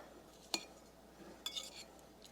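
Broccoli salad with cheese being mixed in a bowl, giving two short clinks of a utensil against the dish amid soft stirring, fairly quiet with no talking.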